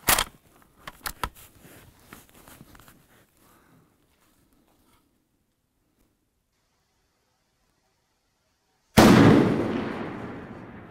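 A precision hunting carbine for mountain hunting fires a single sharp, loud shot late in the clip, with a decaying echo trailing behind it, after earlier soft clicks and handling noises and a long stretch of near silence.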